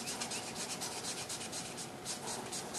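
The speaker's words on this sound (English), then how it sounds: "Not trying to dig in, not trying to do anything, but just scuff the area around it." Abrasive scuffing over car paint around a small paint chip, a steady soft rubbing hiss with faint back-and-forth strokes, close by but quiet, with no talking.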